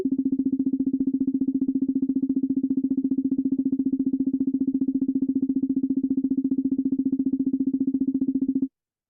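A steady, buzzy electronic tone pulses rapidly and evenly for about nine seconds at one constant pitch, then cuts off abruptly.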